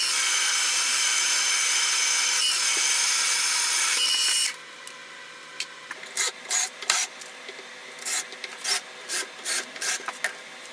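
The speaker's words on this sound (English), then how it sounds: "So I can simply line up the cordless drill and start drilling," A cordless drill bores holes through a steel stiffening plate for a milling machine column. Several seconds of steady, loud grinding drilling give way to a run of short, separate bursts as the bit works on.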